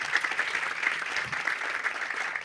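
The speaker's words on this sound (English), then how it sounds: "Round of applause for Michelle." An audience applauds a trail volunteer at a community canoe presentation, a steady patter of many hands clapping together, moderately loud and continuous, with no talking over it.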